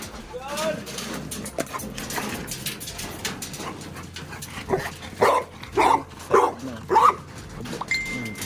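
A dog barks excitedly in a series of sharp, loud barks in the second half, with talking and background noise earlier.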